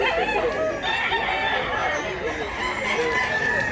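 Roosters crow loudly and hens cluck among the chickens for sale at a busy market, with crowd chatter and nearby voices running underneath throughout.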